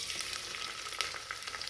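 Hot oil frying in a pressure cooker, a steady close sizzling hiss with small crackles and pops throughout.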